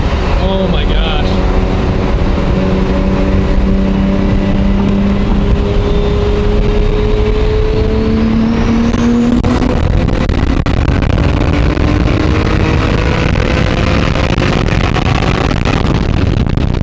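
A Toyota MK4 Supra engine during a ride along, loud steady revving with rising and falling pitch as gears change, heavy wind rush over the microphone throughout.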